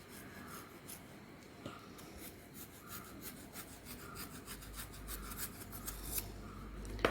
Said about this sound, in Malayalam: ഇത് നമ്മൾ പുറന്തൊലി മാത്രം കട്ട് ചെയ്യുക